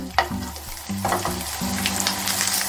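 Swedish meatballs fry over low heat in a pan, giving a steady close sizzle broken by repeated scraping and stirring strokes as they are turned, with no one talking.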